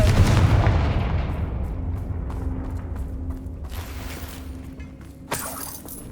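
Confringo fire blast spell in the Hogwarts Legacy video game: a loud booming burst that decays into creaking, rumbling debris, followed by a second sharp impact near the end.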